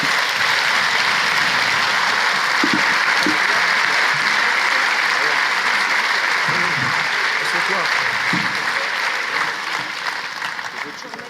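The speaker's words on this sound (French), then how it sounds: "On vous raccompagne sous les applaudissements." Sustained applause from a large conference audience fills the room as speakers leave the stage after a plenary session, a dense steady roar of clapping that thins slightly toward the end.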